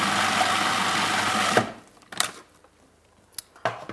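A food processor whirs loudly for about a second and a half, blending nuts into a mushroom pâté, then stops, followed by a few faint clicks and knocks.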